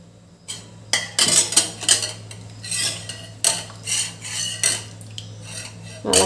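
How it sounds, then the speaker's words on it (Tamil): A utensil stirs tamarind into water in a pot for pepper rasam, giving repeated scraping and clinking strokes against the metal in irregular bursts over a low steady hum, with no talking. "இதை நான் தண்ணியில் நல்லா கரைச்சிக்கலாம்."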